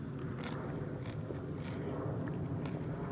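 Crunchy cucamelons from a drought-stricken suburban homestead garden are bitten and chewed, giving a few crisp crunches spaced about half a second to a second apart over steady outdoor background noise.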